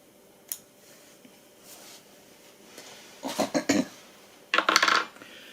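Small scissors snip a short piece of thin green chenille, giving a few quick, crisp clicks and snips in near quiet, with a light tap early on.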